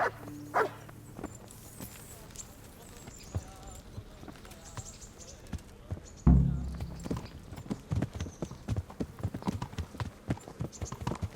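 Horse hooves clip-clop in a steady walking rhythm in the medieval video game Kingdom Come: Deliverance, close and moderately loud, with a voice talking over parts of it.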